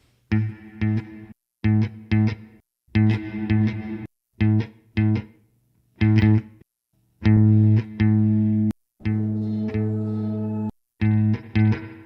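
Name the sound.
electric guitar with plate reverb effect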